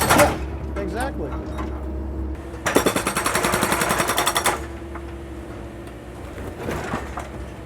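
A jackhammer breaking up concrete during building demolition, a loud, rapid burst of pounding lasting about two seconds, set within machinery noise and background voices.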